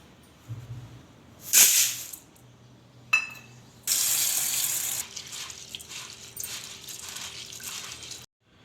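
Wheat grains being washed: water splashes and pours in bursts from a running tap, with swishing and rinsing sounds in a bowl, close by and no speech.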